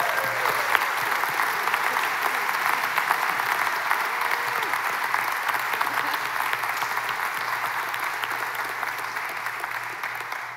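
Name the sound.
applause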